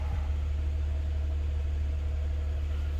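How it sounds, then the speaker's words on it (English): Car engine idling after a jump start from a booster pack, a steady low hum heard close and continuous with no talk. "this is now a running and driving car."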